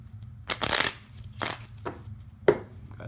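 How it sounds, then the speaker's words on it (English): Three quick riffle-shuffles of a deck of playing cards during a magic trick, each a brief papery burst of flicking cards, close and fairly loud, with a sharp snap near the end. "Shuffle the deck nicely."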